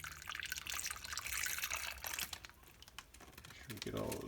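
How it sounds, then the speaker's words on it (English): Tequila lime marinade is poured into a plastic bag of chicken legs, giving a brief liquid splash and drip with some bag crinkling, faint and close, with a voice briefly heard. "Marinade poured into the bag of chicken."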